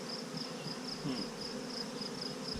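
Honeybees hum in a steady, dense drone during a hive inspection, with a faint high cricket chirp pulsing repeatedly in the background and no talking.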